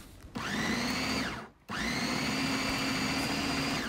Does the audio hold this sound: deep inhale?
no